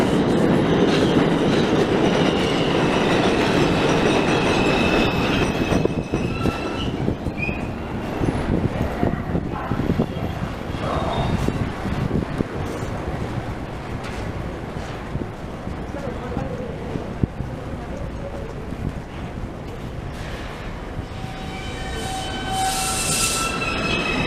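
A northbound express subway train rounds a curve at Nevins Street, its loud rumble and rattle filling the station, with high metallic wheel squeals rising over the clattering, and a voice speaking partway through.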